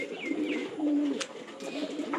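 Pigeons cooing close by, with several soft, warbling low calls in quick succession and a few brief higher chirps mixed in.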